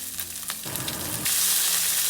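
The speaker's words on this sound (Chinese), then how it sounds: "首先我们需要来炼猪油" Pork fat rendering into lard in a hot wok, a close crackling sizzle that thickens into a louder, steady bright hiss partway through, no voices.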